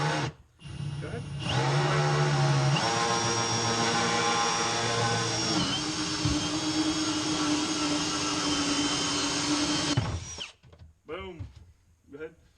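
A handheld battery-powered drill runs steadily for about nine seconds at high speed, a loud continuous whine that starts and stops abruptly, with brief talk before and after.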